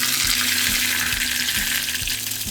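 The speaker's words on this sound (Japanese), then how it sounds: "ほんのり煙が出てきたぐらいで魚を入れていきます。" Fish laid skin-side down in a generously oiled Teflon frying pan over medium-low heat sizzles steadily and loudly, a dense continuous hiss with a few soft low knocks, no voices.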